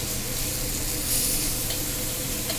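Steady, loud sizzling and crackling of garlic frying in hot oil in a pan, continuous throughout with no talking.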